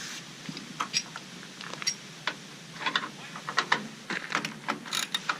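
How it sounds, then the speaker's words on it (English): A hand ratchet tightens bolts on plastic Bushwacker flat-style fender flares during an install: a quick, uneven run of crisp clicking strokes close by, growing busier toward the end. "because we're tightening down onto plastic, you don't want to tighten down too much"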